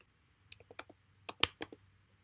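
Fingers tap a computer keyboard in a short burst of about a dozen quick, faint clicks, uneven in rhythm, with one sharper keystroke near the middle and a quiet room behind.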